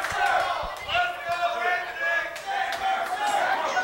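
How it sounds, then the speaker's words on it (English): A wrestling match crowd roars and chants in waves, loud and rowdy, with a commentator's voice mixed in. "Crowd making their presence felt."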